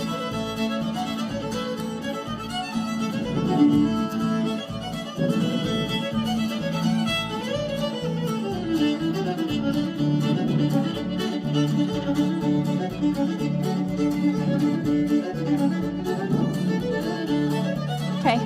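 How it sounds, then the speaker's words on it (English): A lively fiddle tune for the Métis Red River Jig plays continuously with a driving dance rhythm and a steady low pulse underneath, close and full for the whole stretch, with no talk over it. "we're going to start just by playing the song for the Red River Jig"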